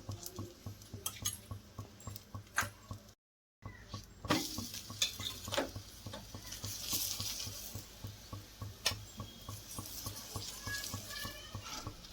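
Mooli paratha fries with ghee on a hot pan, a soft close sizzle with scraping and tapping of a spatula, a brief silent gap, then louder crackling.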